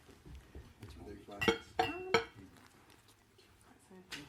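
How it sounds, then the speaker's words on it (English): Drinking glasses are handled near a water station at an indoor gathering, clinking sharply three times in quick succession amid soft background talk and light rustling. "if you would like some water, take a glass from over here."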